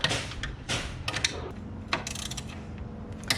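A ratchet clicks in short bursts while loosening 10mm bolts on the fuel rail cover of a BMW Z3 with a 2.8L M50 engine, mixed with a few metallic taps; close and without voices.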